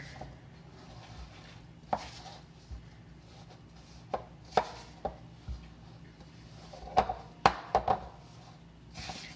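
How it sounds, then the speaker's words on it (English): Spatula scraping around the edge of a bowl while folding shake mix into peanut butter, heard as scattered scrapes and soft knocks that cluster more densely toward the end, close by over a quiet room. "using a spatula so I can scrape the edge of the bowl and really mix this together"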